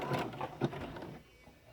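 A sewing machine stitches fabric ruffles in a short run of close, rhythmic mechanical whirring that fades toward quiet near the end.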